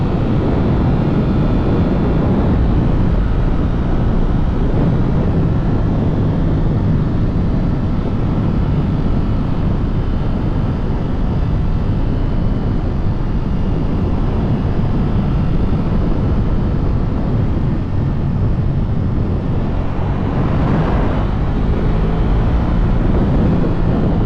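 Continuous loud roar of a motorcycle engine mixed with heavy wind buffeting during a ride, steady and unbroken for the whole stretch with no voices.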